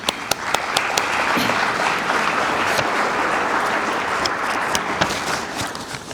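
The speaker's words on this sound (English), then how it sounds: "I'd like to thank all the Sooner Centurions with a round of applause" Audience applause at an annual economic development coalition meeting: a full, steady round of clapping from a crowd indoors, a few sharp claps standing out, lasting throughout and easing slightly at the end.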